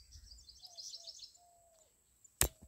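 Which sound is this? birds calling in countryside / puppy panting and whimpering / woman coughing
birds calling in countryside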